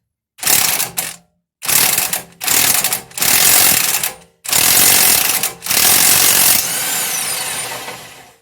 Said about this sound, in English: I'm just going to put a 19 impact on the back side and hold the bigger nut with the breaker bar